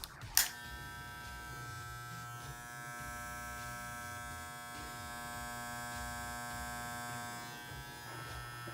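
An Andis GTX T-Outliner hair trimmer clicks on and then runs with a steady, quiet electric buzz and hum, close and continuous, with no talking.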